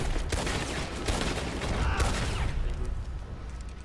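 Shotgun shooting in a video game, heard as a dense run of loud, crackling blasts that cluster closely, then thin out toward the end under light background voices.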